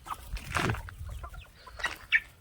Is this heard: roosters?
yes